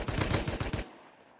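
AK rifle fired in a video game, a rapid burst of about six loud sharp shots in quick rhythm, then a fading echo tail into quiet.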